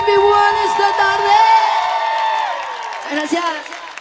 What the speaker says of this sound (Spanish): Y el grito bien fuerte de Puerto Miguel esta tarde.